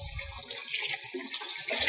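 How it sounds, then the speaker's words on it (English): Cold water runs from a tap to rinse a freshly dyed item, a bright steady hiss of flowing water, close and continuous with no talk. "I'm going to put it on cold water,"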